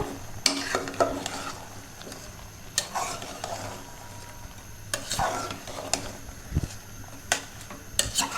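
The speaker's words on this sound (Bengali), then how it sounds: "একটু নেড়ে চেড়ে নিব" Boiled lentils (Anchor and masoor dal), chickpeas and vegetables are stirred in a pan, a spoon scraping and clinking against the metal in uneven strokes over a soft sizzle, close and fairly quiet.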